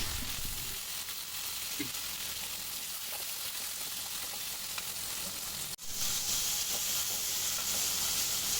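Tomatoes sauté with small onions and curry leaves in a pan for a seer fish curry, giving a dense, steady sizzle throughout with a brief dip partway, close and fairly loud with no talk.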